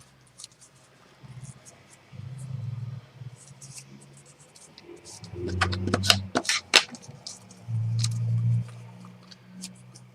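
A sheet of paper is folded into threes by hand, with crisp close-up crinkles and a burst of sharp creasing snaps in the middle, and low humming or murmuring underneath.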